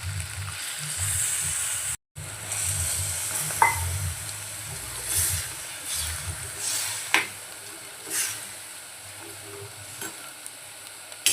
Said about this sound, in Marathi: अद्रक लसूणमध्ये आपलं मटण परतून झालं त्यामध्ये आपण आता पाणी ॲड करूया